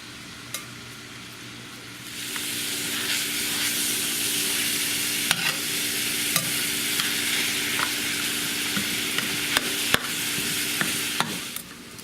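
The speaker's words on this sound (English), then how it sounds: "we're just going to let it saute" Meat sautés in a pan with dark and regular soy sauce for Dan Dan noodles, giving a steady close sizzle that rises after a quiet start and is broken by occasional clicks and scrapes of stirring.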